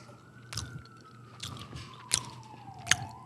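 Someone chews Florida key lime pie right against the microphone, producing soft wet squishing bites and a few sharp clicks, with a faint siren gliding in the background.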